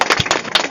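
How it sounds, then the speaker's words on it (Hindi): An audience at a children's quiz show in Dumra, Sitamarhi claps for the winners, giving a quick patter of several sharp, close claps. "एक बार के लिए ताली बजा दीजिए।"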